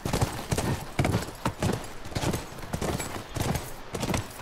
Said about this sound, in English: I like the horse. It's nice to have.